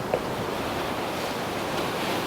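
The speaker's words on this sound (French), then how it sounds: "il y a le bruit des vagues qui donc couvre un petit peu le bruit de la voix" Ocean waves breaking on a beach, a continuous broad surf wash mixed with wind buffeting a small action camera microphone, steady and close with no talking.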